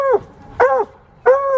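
A dog barks three times in close succession, loud and nearby, each bark a short, clear, tonal yelp separated by brief pauses.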